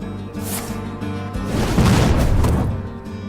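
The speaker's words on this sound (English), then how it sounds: "Arcane missiles and arcane explosions galore." A Hearthstone arcane explosion spell effect swells into a dense, roaring magical burst that builds, peaks and fades over a few seconds, following a softer shimmering effect, with game music underneath and no talking.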